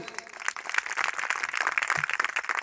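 Church congregation clapping together in praise at a Telugu Christian gathering in Guntur, a dense, steady patter of many hands filling the hall for a few seconds, fairly close and continuous.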